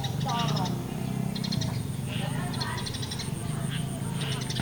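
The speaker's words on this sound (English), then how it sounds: "And those sparrows are having a lot of fun." Sparrows chirp in short bursts around a shed, faint high twitters repeating every second or so over a low outdoor hum, with someone talking throughout.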